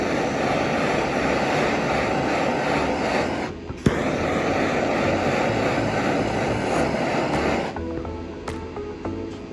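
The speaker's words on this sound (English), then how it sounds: "I just use this giant torch to go around the edge, spin it as I go." A large torch roars steadily as it flames the edge of an acrylic piece, a loud continuous hissing rush up close that briefly cuts out and restarts with a sharp click, then fades a little at the end.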